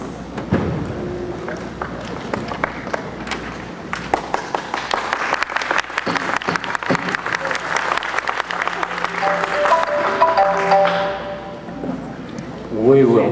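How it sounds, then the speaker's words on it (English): Audience applause at a county council meeting, a crowd clapping loudly and continuously in a hall with scattered voices mixed in. "We will not have an audience clap."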